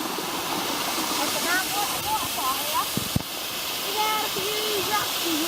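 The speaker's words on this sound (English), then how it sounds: "It's a nice waterfall." A waterfall in the Grose Valley roaring as a steady broad hiss of falling water, with people talking under the constant rush.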